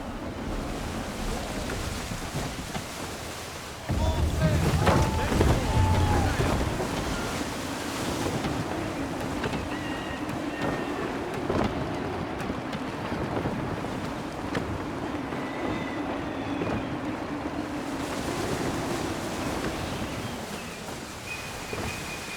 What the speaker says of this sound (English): Try her at full sail. Wind looks to be shifting.